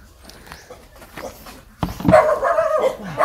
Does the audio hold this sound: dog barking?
yes